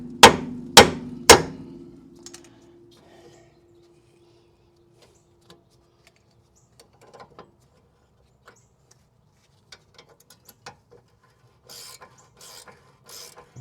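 Three sharp metallic hammer taps on a castle nut on the broken tie rod of a 1981 Corvette's steering, loud and close in quick succession, then faint scattered clinks and rustles.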